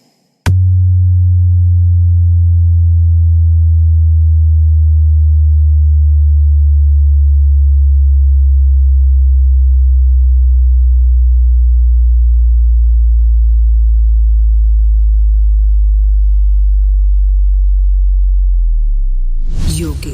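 A subwoofer plays a loud, continuous deep bass test tone that holds steady while slowly sweeping downward in pitch for about twenty seconds, starting and stopping abruptly, with no other sound.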